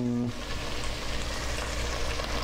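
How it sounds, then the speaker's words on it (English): Ground meat for chili browns in a hot pan, a steady close sizzle and crackle running the whole time with a brief low clunk at the start. "The meat is starting to finally get to the point where it's browning up nicely"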